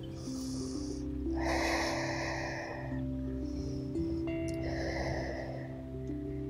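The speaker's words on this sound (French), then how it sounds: "prendre quelques grandes respirations ici" Two long, deep breaths drawn in and out during an outdoor yoga session, soft and airy, over a steady tonal background.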